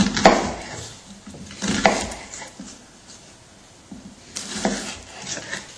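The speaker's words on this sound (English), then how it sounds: "what we're doing here is we're chopping up the onions, and then David's going to take them over to" A knife chops onions for chili on a cutting board: a few separate knocks spread apart, fairly close, with quiet kitchen sounds in between.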